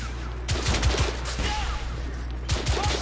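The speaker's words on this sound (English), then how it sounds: "They're shooting at me!" Gunfire in the video game The Order: 1886, with several sharp shots in two quick clusters over a constant low game rumble, loud and close.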